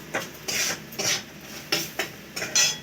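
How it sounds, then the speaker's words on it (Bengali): Tomatoes being stirred and fried in a pan: a utensil scraping and clinking against the pan in about six rhythmic strokes over a soft sizzle, close and clear. "এবার টমেটো দিচ্ছি টমেটো দিয়ে ভালো করে কষে নিচ্ছি"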